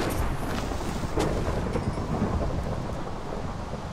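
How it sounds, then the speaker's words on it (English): In Minecraft, a deep rumble of thunder from a lightning strike rolls on over steady rain, with a sharper crack partway through, loud and close. "One of them just got struck by lightning."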